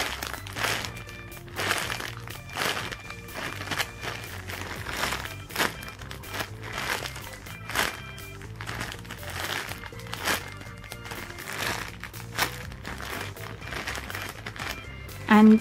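A soft homemade jumbo Tide Pod squishy pressed into crinkly plastic packaging, with continuous rustling and crinkling bursts, close and moderately loud throughout.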